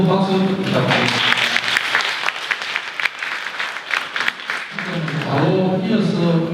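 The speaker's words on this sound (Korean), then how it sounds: "오늘 만나주신 여러분께 뜨거운 박수 부탁드립니다" Warm audience applause at a sea humanities concert, a sustained dense clapping from a crowd lasting several seconds, with a voice speaking over it near the start and again toward the end.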